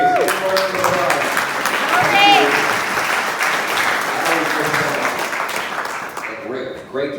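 Dense, sustained audience applause fills a hall at a regional Conservative Party policy convention in New Westminster, BC, steady and loud for several seconds before tapering off, with voices and cheers mixed into the crowd.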